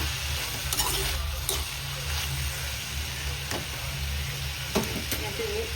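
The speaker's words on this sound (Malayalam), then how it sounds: "ഇടയ്ക്കിടയ്ക്ക് ഇങ്ങനെ എടുത്ത് ഇളക്കി കൊടുക്കണം." Ivy gourd stir-fry (kovakka thoran) being stirred in a pan, a steady sizzle with scattered scraping clicks of the spoon against the pan, close and fairly quiet, with a low hum underneath.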